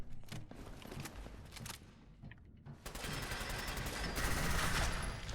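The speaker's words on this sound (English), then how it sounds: "Sorry for shooting you in the dick first." Repeated automatic gunfire in Fallout 4, dense loud bursts filling the clip, a brief lull near the middle, then a heavier sustained volley to the end.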